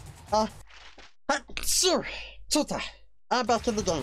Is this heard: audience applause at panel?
no